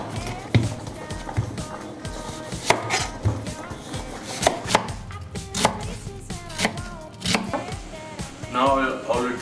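A knife chops celery root and other root vegetables on a board with quick, close, uneven knocks, the pace speeding up toward the end, over faint background sound.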